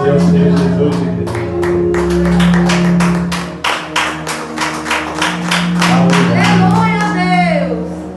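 Church congregation clapping in rhythmic, sharp bursts over steady sustained music, with voices joining in toward the end; loud and close, filling the room.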